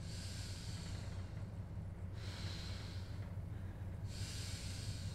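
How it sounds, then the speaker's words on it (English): A man breathes heavily in a TV drama scene, slow loud rasping inhales and exhales repeating in a steady rhythm over a quiet, hissy background. "Why is he breathing so heavy?"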